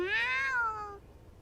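A single high kitten meow from the video game You and Me and Her, a clear rising-then-falling cry near and alone, fading into quiet.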